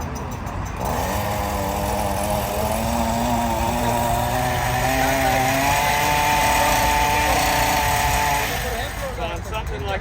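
A powered hedge trimmer buzzes continuously while cutting a shrub, its high motor whine steady and close throughout with slight shifts in pitch.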